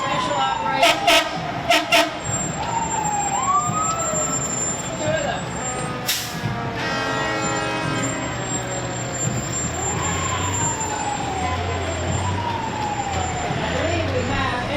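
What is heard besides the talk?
fire trucks with sirens and horns in a parade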